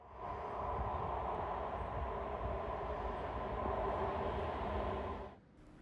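A Norwegian Type 78 airport train arrives, rolling steadily past close by, a sustained roar of wheels and motors lasting several seconds before cutting off to near quiet.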